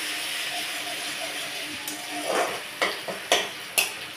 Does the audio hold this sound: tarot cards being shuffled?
no